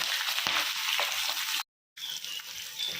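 Mustard seeds, asafoetida, green chillies and coriander leaves frying in hot oil for raw mango chitranna: a loud, close, continuous bright sizzle that cuts out briefly, then resumes.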